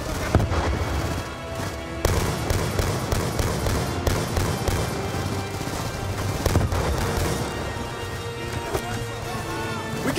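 Sustained gunfire in a Call of Duty Black Ops 2 battle, with dense overlapping bursts and shots rattling continuously under a loud combat mix.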